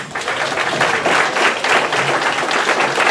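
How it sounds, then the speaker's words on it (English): An audience applauds candidates at a 2015 St Petersburg District 7 candidate forum, a steady, dense wash of clapping that holds at an even level for about three seconds with no voices above it. "If we can give all the candidates a round of applause."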